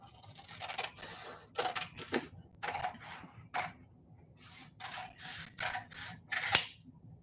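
Scissors cutting paper in short crisp snips and rustles, about a dozen irregular cuts, close and fairly quiet, with a sharper click near the end.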